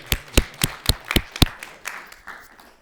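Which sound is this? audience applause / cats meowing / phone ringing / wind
audience applause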